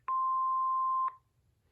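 A DECT 6 cordless answering system gives a single clean electronic beep of about a second while deleting messages, clear and alone in a quiet room.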